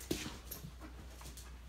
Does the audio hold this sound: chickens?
no